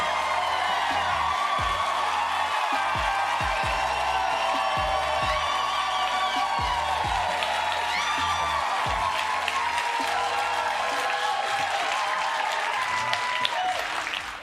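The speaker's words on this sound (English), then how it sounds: "leading to a roar of applause from the audience" A studio audience at the Daily Show claps and cheers continuously, dense loud applause with scattered whoops and shouts filling the whole stretch without a break.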